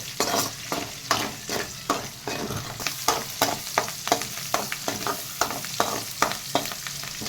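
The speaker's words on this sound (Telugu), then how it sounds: "ఇవి బాగా ఫ్రై చేసుకుందాం." Green chillies frying in a pan with onion and curry leaves, stirred in a steady rhythm of repeated scraping strokes over a continuous sizzle, close and fairly loud.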